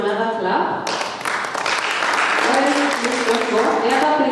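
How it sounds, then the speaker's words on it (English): A conference audience at an East African agroecology gathering claps steadily for a presenter, a dense sustained round of applause with a faint voice underneath. "So kindly let's give him another clap."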